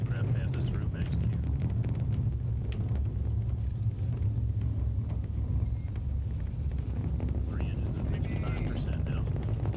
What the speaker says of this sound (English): Engines throttling down now to maintain surge speed as the spacecraft passes through max Q.